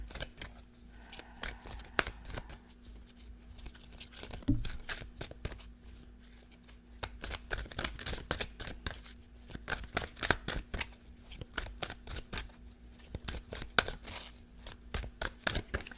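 Tarot cards are shuffled by hand in a quiet room, with repeated crisp riffling bursts and soft slaps coming in irregular clusters, close and moderately loud.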